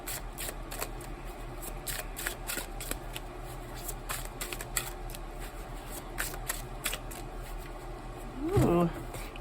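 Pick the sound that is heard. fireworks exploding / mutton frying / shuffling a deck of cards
shuffling a deck of cards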